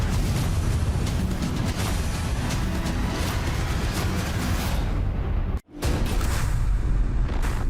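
A staged film-set explosion for the action movie Fast X, a dense, continuous roaring blast rumble sustained and loud for several seconds, cut by a brief drop to near silence before the roar resumes.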